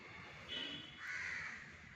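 Crows cawing outdoors, two drawn-out harsh calls one after the other, faint and somewhat distant against quiet background hiss.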